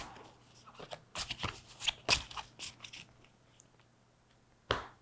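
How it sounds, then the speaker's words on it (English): A deck of cards for the board game Cartographers is being shuffled in a quiet room, with several crisp riffling bursts clustered near the start and one more close burst at the end. "add 1 ambush card, and shuffle"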